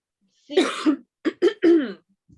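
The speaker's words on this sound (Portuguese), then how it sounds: "Desculpa, o professor tossiu de novo." A teacher coughs several times up close in a classroom: a harsh double cough, a short pause, then a quick burst of three throaty coughs.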